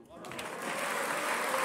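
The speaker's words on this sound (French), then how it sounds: "Tonnerre d'applaudissements sur les bancs des Républicains suite à cette réplique de Roger Karoutchi" Thunderous applause from senators on the Les Républicains benches of the French Senate, swelling steadily and dense, a continuous roar of clapping that grows louder over the short span.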